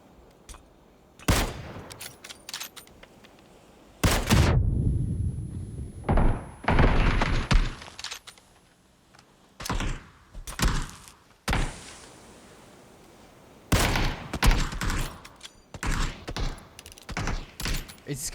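Video game gunfire from PUBG during a competitive tournament match, with loud separated shots and short bursts punching out in irregular clusters over quieter stretches of ambient game noise.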